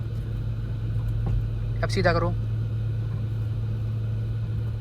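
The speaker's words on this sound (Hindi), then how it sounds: "अब सेल्फ मारो गाड़ी का, गाड़ी हो चुकी है आपकी स्टार्ट" Manual car engine idling just after being started, a steady low hum beneath a short instruction from a voice.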